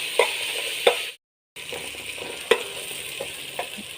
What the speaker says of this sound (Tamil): கொஞ்சமாக கல்லுப்பு இந்த வெங்காயத்துக்கு அளவாக வதக்கிக்கலாம்